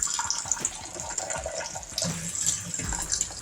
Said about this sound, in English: Turn the water down low.